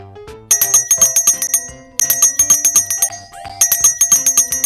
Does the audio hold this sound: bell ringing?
yes